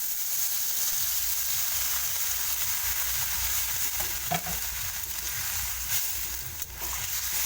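Eggplant pieces sizzle and crackle steadily in a hot pan of oil, a continuous close frying hiss broken by a few soft clinks and stirring scrapes.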